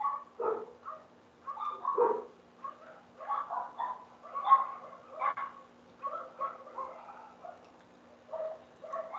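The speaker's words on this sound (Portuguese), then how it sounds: "os cachorros agora vai resolver ficar latindo." Several dogs bark in scattered bursts throughout, moderately close, with yips and whimpering mixed in against a faint steady hum.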